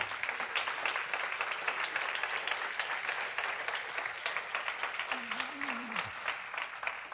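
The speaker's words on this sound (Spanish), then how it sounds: "Yo le daría un aplauso al Señor." A church congregation breaks into sustained applause, a dense steady patter of many hands clapping throughout, with a voice briefly calling out partway through.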